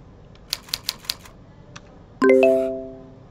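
Keys clack on a keyboard during a Typing Club lesson: a quick run of about five crisp taps, a short pause, then a bright ringing chime that decays slowly.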